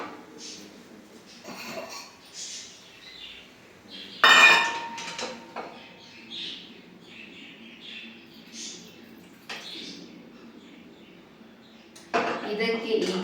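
A frying pan from cooking potato egg fry, handled and tipped while excess oil is poured off, with soft scrapes and clinks and one sharp metallic clank, under quiet talk.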